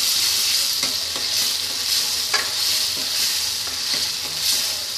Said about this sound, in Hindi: चलाएंगे इसको।